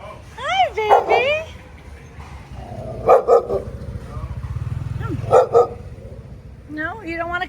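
A dog barks several times from close by on a street walk to the beach in Da Nang, sharp yips and bow-wows in short bursts, with a person talking and a motorbike humming in the background.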